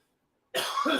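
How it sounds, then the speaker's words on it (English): A single close, fairly quiet cough erupts after half a second of near silence, followed by a second rougher burst like throat clearing. "I do not want to cough in your ear and make this uncomfortable for you."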